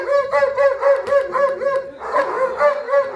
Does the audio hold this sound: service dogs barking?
yes